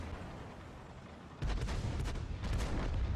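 A T20 tank's 90mm gun fires in a tank video game, booming heavily under a steady engine rumble, with a few loud blasts from about the middle onward.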